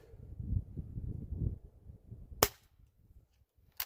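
A Weihrauch HW spring air rifle fires once with a sharp, loud crack midway, preceded by low rumbling handling noise and followed by a second quieter snap near the end.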